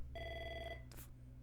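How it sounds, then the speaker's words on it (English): A telephone bell rings once in a short, bright trill, close and clear, alone with no talk, then a brief clatter as it stops. "See, there's another happy customer ringing in."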